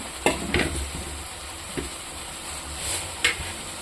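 Fried fish going into a simmering masala gravy in a pan, giving a soft bubbling hiss with a few sharp clinks and scrapes of a spatula against the pan, no voices.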